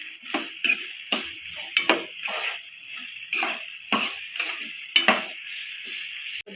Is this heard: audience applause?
no